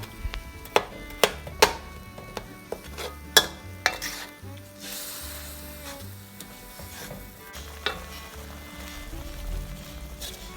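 A utensil scrapes and knocks sharply against a pan several times, then a soft sizzle and gentle stirring continue at close range as rice noodles with crab meat and water simmer down.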